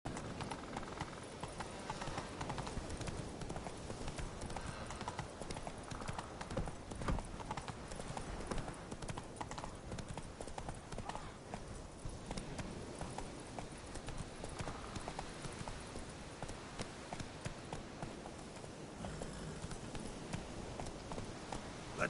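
Video game horse Roach's hooves clip-clop in a steady, continuous rhythm, fairly close and even throughout, with faint ambient background and no clear speech.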